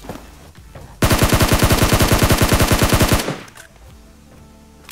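A long, rapid burst of automatic gunfire from PUBG Mobile sounds close and loud for about two seconds, its shots evenly spaced, then cuts off to quieter background game noise.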